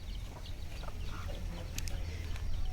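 Soft, low clucking from an angry hen with chicks, feathers puffed up, over a steady low hum, with a few brief sharper calls near the end.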